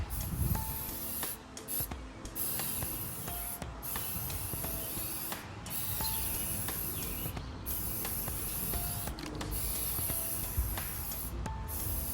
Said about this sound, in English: Let's see what the Sprayway does. Sprayway has a foam.